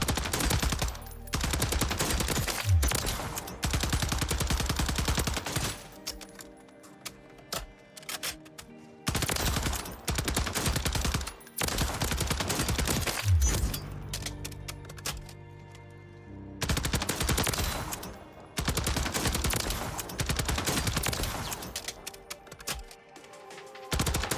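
Automatic weapon fire from a loadout in the shooter Warzone 3, loud bursts of rapid shots in several long strings broken by short pauses, with no talking.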